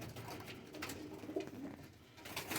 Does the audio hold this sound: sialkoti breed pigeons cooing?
yes